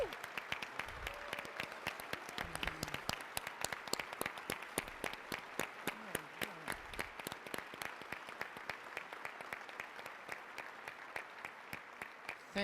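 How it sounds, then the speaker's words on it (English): Sustained applause from a room of attendees at an engineering deans' breakfast, honoring standing service members; dense, even clapping runs steadily throughout with no voices. "receive a round of applause"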